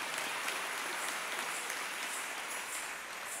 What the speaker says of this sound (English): I got two claps.